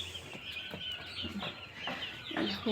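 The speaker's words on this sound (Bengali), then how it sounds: "মুরগি কত সুন্দর রয়েছে, একদম ওরা ওদের মতনই রয়েছে।" Chickens in a poultry shed in cold weather cluck and chirp repeatedly at close range, with overlapping soft calls and steady low background noise.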